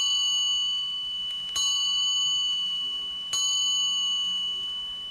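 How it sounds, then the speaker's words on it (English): Yoko's wishing bell rings out, two clear metallic dings spaced a couple of seconds apart, each leaving a long sustained shimmering tone that slowly fades. "Ding, which is actually a bell that Yoko calls her wishing bell"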